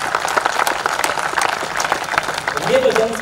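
Audience applause breaks out at a Hindi kavi sammelan poetry recital in Nanded, a steady crowd clapping under an amplified speaking voice, growing louder near the end.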